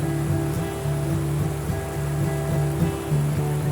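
Water flows steadily along a stream on a bass-fishing trip in the Blue Mountains, a continuous, fairly loud rushing wash with no break and no voices.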